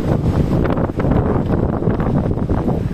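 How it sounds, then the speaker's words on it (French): Strong storm wind buffets the microphone in a very windy region during van travel, a continuous loud low roar with gusty surges throughout. "on est en pleine tempête, en plein vent. C'est une région très venteuse"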